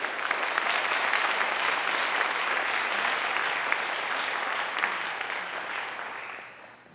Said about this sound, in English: they both deserve double the applause